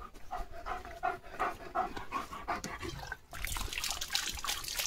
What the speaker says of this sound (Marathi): किती दम लागलाय बघ ना त्याला.